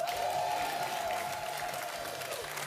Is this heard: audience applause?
yes